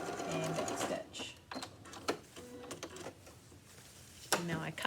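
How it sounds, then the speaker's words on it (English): A sewing machine stitches a lunch bag's fabric in quick rattling bursts, stopping and reversing for back stitches, close and clear, with a voice faintly heard at moments. "sew forwards, back stitch, all the way to the edge, and right across, and back stitch."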